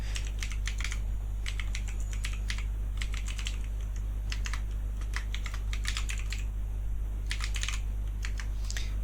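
Fingers tap steadily on a computer keyboard while someone fills in an online sign-up form, with uneven bursts of close, crisp key clicks and short pauses, over a constant low hum and no talk.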